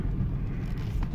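A car, a VAZ-2107, drives off-road in spring with a steady low engine rumble and road noise throughout, close and continuous with no talk.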